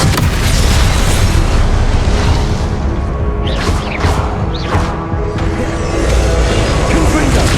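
An Expelliarmus spell in Hogwarts Legacy bursts out in loud booming blasts with sharp crackling pops amid continuous roaring combat noise.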